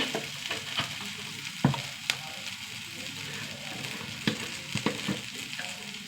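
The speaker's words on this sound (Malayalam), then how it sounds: "സവാളയൊക്കെ വഴണ്ട് വന്നിട്ടാണ്." Sliced onions softening in hot oil in a pan, stirred now and then, with a close, steady sizzle and a few sharp spoon taps against the pan.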